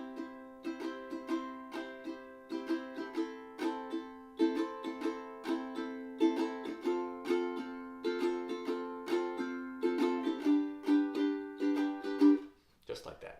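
Ukulele strummed slowly and evenly, with steady down and up chord strokes in a relaxed repeating rhythm, close and fairly quiet.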